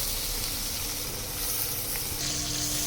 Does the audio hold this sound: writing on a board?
no